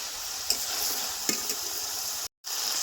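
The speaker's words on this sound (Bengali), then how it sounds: "পনেরো থেকে কুড়ি মিনিট মাংসটা ভালো মতো কষায় নিচ্ছি" Chicken sautés in oil in a pan during village-style chicken pasta cooking, a constant loud sizzle with occasional stirring knocks, cut by a brief silent gap.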